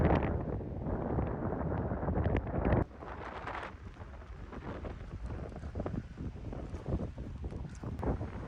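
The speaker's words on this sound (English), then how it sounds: "it's windy up here" Strong wind buffeting the microphone high on a mountain trail in Rocky Mountain National Park as a storm rolls in, a steady loud roar that drops slightly after a few seconds and keeps gusting throughout.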